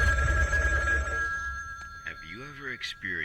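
Telephone ringing in an indie horror video game: a steady electronic ring tone sounds loud at first, then fades under someone talking.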